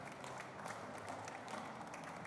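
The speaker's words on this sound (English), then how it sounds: "I will give our guys from Paradox as well as Zeal quick applause, Stefan and Robin" A steady wash of applause from an audience, continuous and even throughout, moderately distant and fairly quiet.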